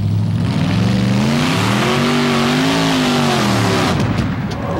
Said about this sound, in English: Supercharged engine set right on the nose of the vehicles.